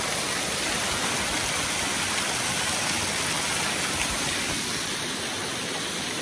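Beușnița waterfall in Cheile Nerei National Park roars as a dense, steady rush of falling water, loud and continuous from close by with no break.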